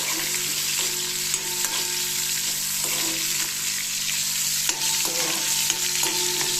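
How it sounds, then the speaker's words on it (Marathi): Dried Bombay duck fish fry in hot oil, a loud, dense, unbroken sizzle close up, with faint scattered crackles and a few light utensil knocks. "हे बोंबील मस्तपैकी आता तेलामध्ये फ्राय करून घ्यायचे"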